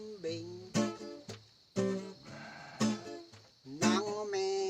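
Goats on an organic farm bleat in a series of five loud, wavering calls, each a second or less long, separated by short pauses and heard close by.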